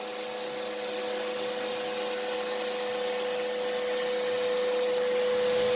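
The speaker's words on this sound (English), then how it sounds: "The husk is getting sucked out, and it's not going in the vacuum." A vacuum sucks cocoa husks out of nibs during chocolate-making winnowing, a loud steady whine and rush of air holding constant for several seconds with no talk.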